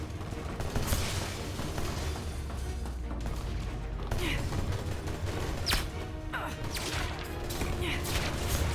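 Shotgun blasts in the video game Left Alive punctuate a noisy firefight, several sharp bangs spaced a second or two apart over a continuous rumbling backdrop.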